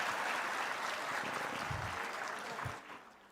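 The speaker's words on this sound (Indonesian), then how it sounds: "Saudara Sanitiar Burhanuddin, kok tepuk tangannya nggak terlalu keras kalau Pak?" An audience at a formal government address gives moderate, steady clapping that carries on at a distance and fades near the end.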